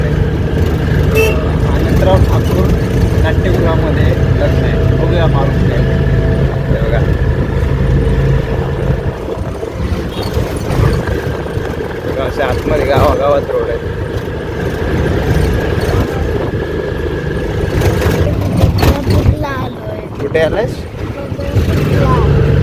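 Riding in an auto rickshaw on a road near Naigaon, with a steady engine drone, road rumble and repeated vehicle horn toots nearby, while people talk throughout.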